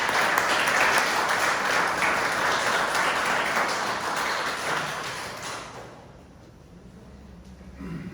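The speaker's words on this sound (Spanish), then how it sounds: "Vamos a darles un fuerte aplauso." A church congregation gives a loud sustained round of applause that fills the hall, then fades out after several seconds into quieter room noise.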